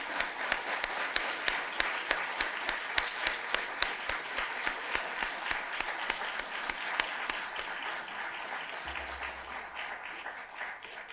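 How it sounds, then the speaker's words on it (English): An audience at an award ceremony in the San Francisco Public Library gives sustained applause for an honoree, a dense, steady roar of many hands clapping for about eleven seconds, easing slightly toward the end. "Please give a round of applause for Ms. Burks"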